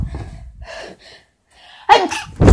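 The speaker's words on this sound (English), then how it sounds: "I'm going to sneeze." A person gasps with a couple of sharp breaths building up, then sneezes loudly and close, with a short burst after it.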